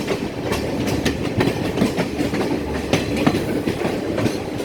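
A train rolls steadily along its rails through green hill country of tea estates near Nuwara Eliya, with a loud, continuous rumble and a rhythmic clickety-clack of wheels over rail joints heard close from inside a carriage.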